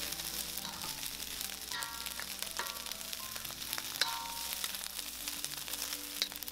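Hong Kong style Yangzhou fried rice with onion, peas, carrots and char siu, seasoned with salt, white pepper and soy sauce, being stir-fried: a steady, close sizzle with scattered scraping and clinking of the utensil against the pan.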